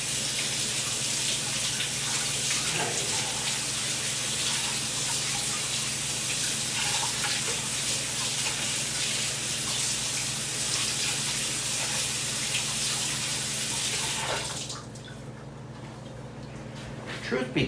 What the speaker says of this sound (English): give me a second, please, to wash my hands right now